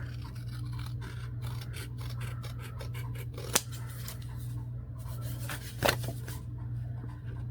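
Scissors snip a thin sliver of paper for a handmade lemons-and-lavender paper journal: soft, close rasping cuts with two sharper snaps, over a steady low room hum.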